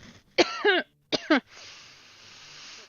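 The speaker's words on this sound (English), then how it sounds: "That is not part of it, the coughing." Two harsh coughing fits, each a pair of quick coughs, sound close and loud, followed by a soft steady hiss.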